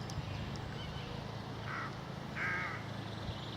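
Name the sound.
crows cawing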